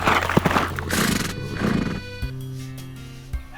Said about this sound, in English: a stranger came galloping down the road upon a horse.